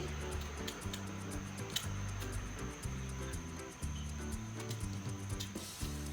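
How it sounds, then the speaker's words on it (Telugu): Beetroot skin being peeled off, heard as faint, close, repeated scraping strokes in an uneven rhythm, with no voice over them. "ఈ బీట్రూట్ పైన ఉన్న చెక్క అంతా తీసేయాలి"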